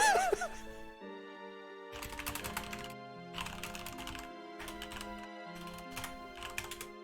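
A computer keyboard typed on in several quick bursts to enter a Google search, the clacking rising over a steady backdrop of sustained musical tones.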